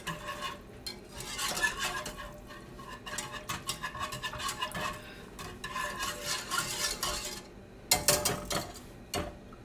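A spoon stirs a Parmesan cheese sauce with milk in a pot on the stove, giving steady scraping and sloshing through most of the stretch with brief pauses, then a sharper clatter of utensil against the pot near the end.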